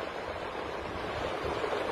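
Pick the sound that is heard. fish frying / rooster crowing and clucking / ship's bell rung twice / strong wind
strong wind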